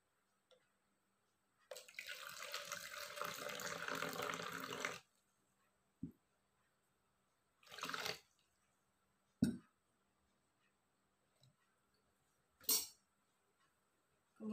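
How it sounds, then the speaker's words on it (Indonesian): Water poured from a tap into a solution in a lab, diluting a stock solution up to 250 grams; a few seconds of steady pouring followed by brief splashes and clinks of glassware in a quiet room. "kita tambahkan air sampai mencapai 250 gram."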